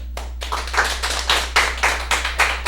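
An audience claps in a steady patter of applause with rhythmic peaks, fairly loud and close, with a low constant hum underneath.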